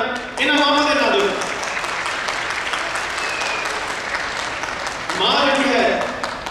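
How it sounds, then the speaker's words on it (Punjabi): An audience at a 2009 Vaisakhi cultural program applauds the mothers with loud, dense clapping that swells at the start, while someone speaks over a microphone at the beginning and end. "ਇੱਕ ਵਾਰ ਜ਼ੋਰਦਾਰ ਤਾੜੀਆਂ ਇਹਨਾਂ ਮਾਵਾਂ ਦੇ ਨਾਲ ਦਿਓ"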